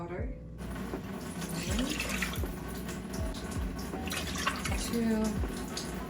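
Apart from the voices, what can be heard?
water running from a tap for kimchi porridge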